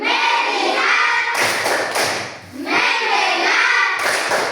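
Schoolchildren in a classroom clap together in the rhythmic focus-clap ice-breaker game, loud bursts of hand claps with thumps, split by a short pause and then resuming.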